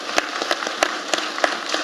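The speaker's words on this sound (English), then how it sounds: "And a round of applause, please, for members of the team." An audience at an anniversary panel discussion on the Eastern Caribbean dollar peg gives a round of applause, thin scattered claps rising to a few sharper ones, modest in level and brief.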